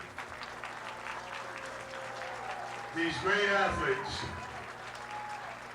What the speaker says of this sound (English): How about a nice round of applause for all these people?